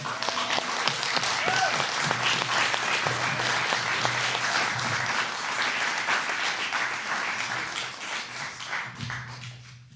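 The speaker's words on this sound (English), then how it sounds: "Let's give a round of applause" A crowd applauds steadily, dense clapping filling the room for several seconds before tapering off at the end.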